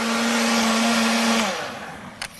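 An electric blender juicing oranges in a restaurant kitchen whirs loudly with a steady motor hum, then winds down and stops, followed by a brief clack.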